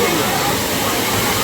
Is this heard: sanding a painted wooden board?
no